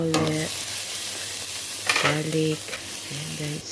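Onion, garlic and a cinnamon stick fry in a pan for chicken and rice, a steady close sizzle with stirring scrapes, while a voice hums briefly in three short bursts.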